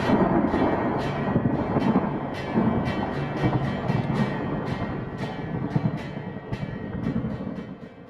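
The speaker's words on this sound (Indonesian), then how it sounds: "suara keras pada guntur" Loud rolling thunder rumbles continuously in a storm, with repeated sharp cracking bursts over a heavy low roar that never fully dies away.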